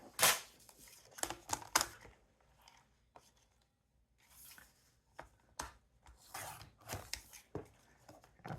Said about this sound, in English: so I'm just going to trim some of this off.